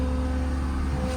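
A 2021 Ford F550 service truck's engine holds a steady, raised idle with a low hum and a strong tone, close by, as the PTO is engaged with the parking brake set.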